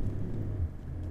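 A 4WD climbs off the beach up a sand track at Coffin Bay, its engine a low, steady rumble heard from inside the cabin in a brief burst.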